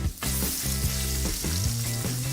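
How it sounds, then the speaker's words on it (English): KFC chicken frying for a chicken sandwich, a dense, loud, continuous sizzle of oil heard up close, with a few soft thumps under it and no talking. "Your chicken is Kentucky Fried to order."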